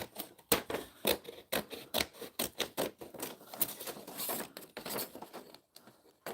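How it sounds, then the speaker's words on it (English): Scissors trim paper for a handmade junk journal in a steady run of sharp, close snips, each cut a short crisp burst with brief pauses between. "now we can trim all this paper off"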